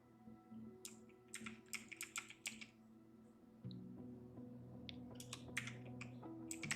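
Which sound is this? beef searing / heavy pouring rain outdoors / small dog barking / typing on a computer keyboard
typing on a computer keyboard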